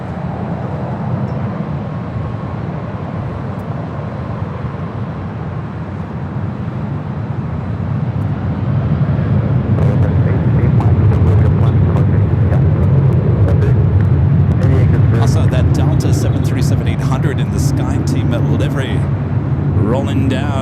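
A Boeing 787-9 Dreamliner takes off from runway 24 left at LAX, a broad jet roar that builds and swells to a loud sustained rumble, with someone talking over it throughout.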